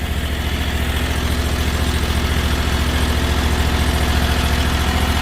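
A small engine idles just after being choked, a loud, steady, close putter with an even rapid pulse that holds unchanged throughout, no voices.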